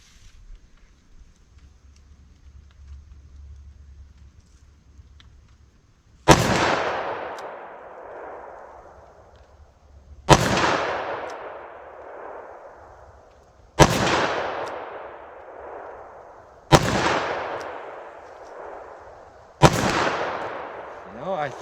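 Five sharp, loud shots from a snub-nose .357 Magnum revolver firing Hornady Handgun Hunter ammunition at an outdoor 50-yard range, each blast decaying with a long echo, spaced a few seconds apart after a quiet stretch.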